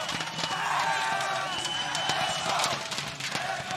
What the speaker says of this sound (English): Oh, the crowd is really fired up today.